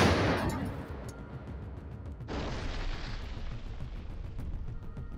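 Heavy artillery fire and explosions on the Donetsk front of the Donbass war: a loud, harsh blast opens, then a second sharp boom about two seconds later, each followed by a long rumbling roar, with no voices.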